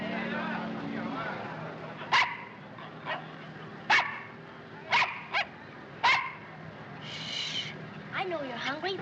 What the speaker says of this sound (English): I know you're hungry, but stop barking.